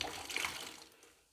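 Water is tipped out of a bucket during toilet-bowl cleaning, a short close splash and pour that fades away within about a second.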